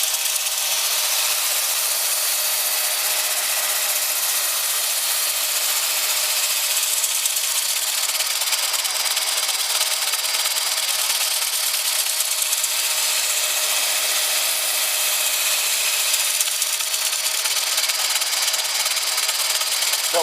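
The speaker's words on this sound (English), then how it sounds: "now I'm on the 120, and it's just a case of working my way down through the sanding" Fine 120-grit sandpaper held lightly against a holly natural-edged bowl spinning on a woodturning lathe, giving a steady, even, airy rubbing hiss over the lathe's hum that runs unbroken throughout.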